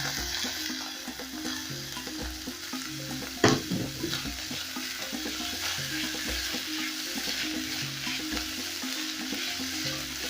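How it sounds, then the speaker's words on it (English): Garlic paste, coriander and capsicum frying for a sausage stew give a continuous close sizzle, with stirring scrapes throughout and one sharp clatter partway. "I'll go in with my garlic paste. Then I'm also going to add in my coriander and my capsicum."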